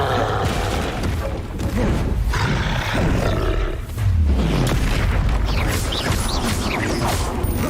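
A hulking brute creature roars in the Hogwarts Legacy video game, loud guttural bellows amid crashing, booming combat effects, with a sweeping low growl around the middle.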